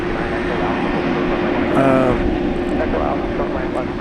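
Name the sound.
UPS cargo airplane at DFW Airport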